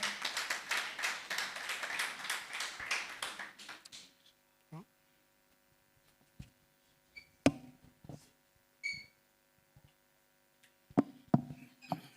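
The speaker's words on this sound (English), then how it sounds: "Let's give him a hand of applause as he comes forward." Audience applause at a morticians' scientific conference as a presenter comes forward: a dense, fairly close burst of clapping for about four seconds, then a hushed room with scattered taps and small knocks.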